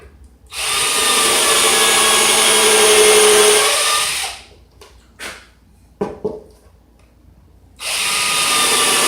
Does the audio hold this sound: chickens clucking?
no